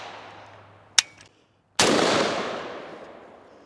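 Rapid fire from a 7.62x39 Riley Defense Krink rifle: a single sharp shot, a short pause, then a loud sustained burst of gunfire that slowly fades.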